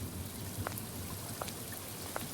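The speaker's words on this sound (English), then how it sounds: "Rain fell, hitting the hard cobblestones" Steady rain falling on hard cobblestones on a dark night street in Lambeth, a continuous broadband hiss with a few distinct drops landing close by.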